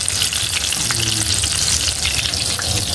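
Eggplant omelette (tortang talong) frying in oil in a pan, a loud, close, constant crackling sizzle with a brief stir partway through.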